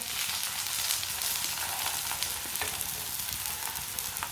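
An aloo chicken paratha fries in oil on a pan after being flipped, a steady close sizzle with crackling pops and no talk.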